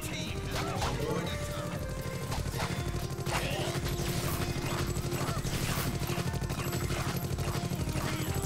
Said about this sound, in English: I'm gonna destroy this turret just for Talol's